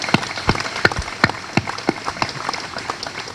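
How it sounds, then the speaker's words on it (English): Scattered applause from a small audience at a military change of command ceremony at the Watervliet Arsenal, individual claps popping out irregularly and thinning toward the end, with no one talking. "Let's give these folks a round of applause"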